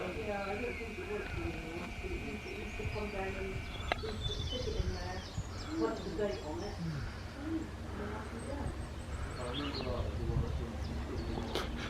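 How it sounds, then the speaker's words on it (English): Small birds, including blue tits and sparrows, chirp and twitter around garden bird feeders near a heritage railway, with pigeons cooing; the calls come in scattered bursts, fairly faint, under people talking. "The birds are making good use of the bird feeders here."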